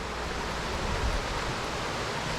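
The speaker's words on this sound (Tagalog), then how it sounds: "naririnig ko na naman yung aligasgas ng tubig dito napakaganda" Steady rushing of stream water at an outdoor spot in Benguet, a dense, even wash of noise heard close and continuous with no voices.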